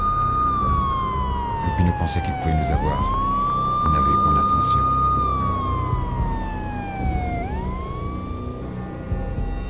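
Police sirens wail in the Max Payne game, one long falling and rising sweep after another, loud and near, layered over traffic rumble while someone narrates above them.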